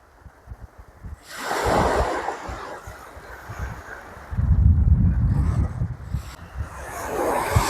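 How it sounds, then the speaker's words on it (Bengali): Ocean waves roar and surge at Lalganj beach in Bakkhali, rising in loud rushing swells over buffeting wind on the microphone, with quieter gaps between breakers. "তোমরা নিশ্চয়ই সমুদ্রের আওয়াজ শুনতে পাচ্ছ, গর্জন।"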